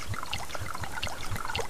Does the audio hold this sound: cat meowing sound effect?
no